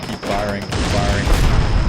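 Dense battlefield gunfire in the Combat Mission Black Sea video game, a continuous crackling fusillade with rapid overlapping shots, loud and steady under faint background voices.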